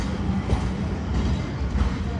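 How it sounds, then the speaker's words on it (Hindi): A long train rolls steadily past at Sahiwal railway station, a dense continuous rumble and rattle of wagons close by, with voices audible in the background. "भाई बहुत लंबी ट्रेन है यार ये।"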